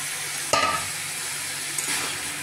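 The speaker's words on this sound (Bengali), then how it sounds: "সোয়াবিনটা ভালো করে কষবো, কষে তারপরে জল দেবো। এই যে কষা হচ্ছে।" Soybean chunks frying in a pan with a steady, close hiss of sizzling oil, broken by two sharp scrapes of stirring.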